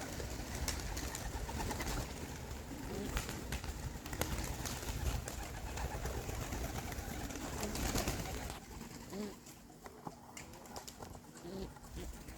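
Young racing pigeons coo softly in a backyard amid steady outdoor background noise, with faint flutters and low calls scattered throughout.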